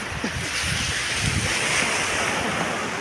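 Ocean waves wash ashore on an island coast in a steady, loud roar of surf, with wind buffeting the microphone throughout and no voices.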